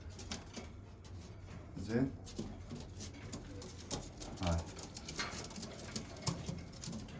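Red Iraqi pigeons in a loft coo softly and shuffle and flutter about, faint and close, while someone talks over them.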